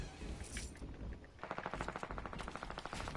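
Shotgun blasts in a battle-royale video game, a burst of rapid repeated shots after a quieter opening, fairly loud and sharp with no voices over them.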